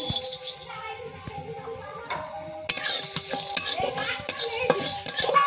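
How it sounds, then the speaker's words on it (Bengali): Whole dried red chillies, coriander seeds, black peppercorns and whole garam masala dry-fry in a wok, with a metal spatula scraping and rattling as it stirs, and the clatter growing busier partway through. "এটা কিন্তু এখন কড়াইয়ের মধ্যে দিয়ে দেবো"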